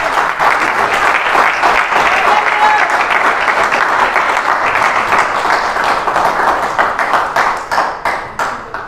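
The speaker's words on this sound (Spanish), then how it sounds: "Se merece un aplauso el Señor." A church congregation breaks into loud, dense applause that holds steady for several seconds, then thins into scattered claps and fades out toward the end.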